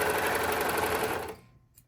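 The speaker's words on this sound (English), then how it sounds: "because it's a serger, I just keep stitching" A serger sewing machine stitches along a fabric edge in a fast, steady, close mechanical whir that runs continuously and then stops abruptly, leaving near silence.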